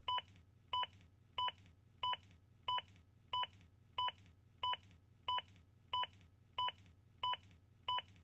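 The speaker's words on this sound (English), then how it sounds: "The beeps will speed you up." A ZOLL AED Plus defibrillator sounds CPR pacing beeps, a regular series of about thirteen short electronic tones spaced evenly, clear over a faint low background hum.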